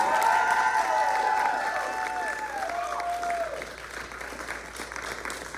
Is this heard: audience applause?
yes